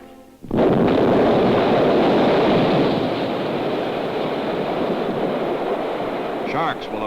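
A TNT charge detonates underwater to detach propeller blades from a shaft, an abrupt deep blast that swells into a long, loud roaring rumble and slowly fades, with a faint voice near the end.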